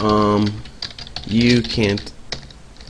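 Someone types code on a computer keyboard in quick bursts of clicks while a person speaks briefly between them.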